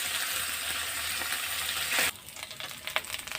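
Mourala fish fry gently in shallow oil in a pan, giving a soft, even sizzle that drops off abruptly partway through. A few faint scrapes and clicks follow in a quieter stretch.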